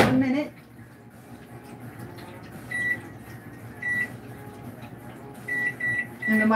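A microwave oven heating meatloaf gives a low, steady hum, broken by several short electronic beeps and light clunks nearby.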